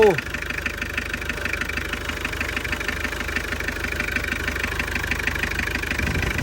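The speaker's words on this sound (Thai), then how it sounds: "เครื่องแน่นเปี้ยเลยครับผม ตัวนี้เป็น 2L" A 2-litre car engine idles with a steady, even pulsing chug close to the microphone, running smoothly for several seconds while someone talks over it.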